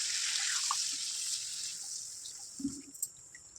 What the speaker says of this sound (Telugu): నేను ఇందులో ఒక అర లీటర్ వాటర్ యాడ్ చేస్తాను